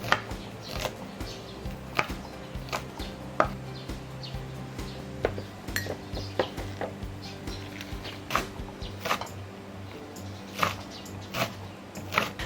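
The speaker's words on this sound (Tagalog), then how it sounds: "we're gonna have our onions na kailangan natin i-chop ng malilipis, and also our leeks" Knife chopping onions and leeks on a cutting board, a steady run of close, crisp taps repeating at an uneven pace for several seconds with no voice over them.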